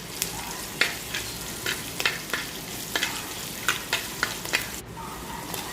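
Shallots and green chillies fry in a pan for a Kerala mackerel chilli curry, giving a steady close sizzle with scattered sharp crackles and a few spoon scrapes, no voices.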